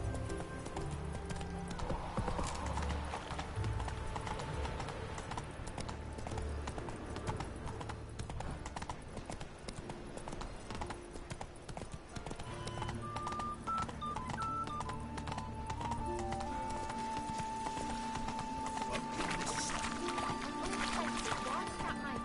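Roach, the horse in The Witcher 3: Wild Hunt, gallops in steady, continuous hoofbeats under loud game music and ambience, with a voice speaking over the top throughout.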